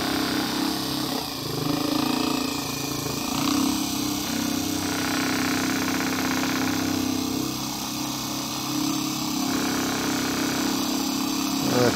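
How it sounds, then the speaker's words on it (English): A Gerard Morin pump motor running on 12 volts hums steadily and fairly quietly with an even drone throughout, and a faint voice is present at times. "Motor's a little quieter."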